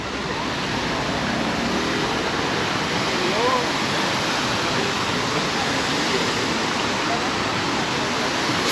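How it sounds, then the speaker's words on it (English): Water fountains splashing in Palma de Mallorca, Majorca, a steady, dense rush of falling water that holds an even level throughout with no pauses, close and fairly loud. "Fountains to the right of me, fountain to the left of me."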